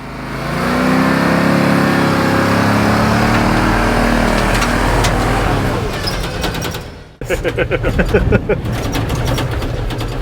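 A 1986 Chevrolet K30 dually truck engine running loudly at close range, a steady low rumble that drops off briefly before returning as a rougher, pulsing idle, with people talking over it.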